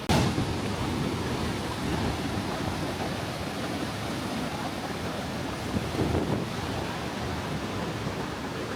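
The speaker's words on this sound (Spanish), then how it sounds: "A continuación, la cascada de Montmorency" A steady, dense roar of rushing water fills the clip, broad and unchanging, from Montmorency Falls in Quebec, Canada, heard from nearby with some wind.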